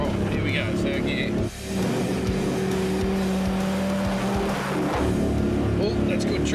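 A 4WD truck engine labors steadily in 3rd gear while driving through a flooded stretch of the Simpson Desert, a continuous loud drone with water noise and a brief dip near the start, people talking over it.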